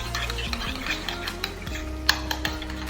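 A beet salad dressing with oil, salt and pepper is stirred in a bowl, giving a few soft clinks and scrapes of a utensil over a steady musical background, with no talking.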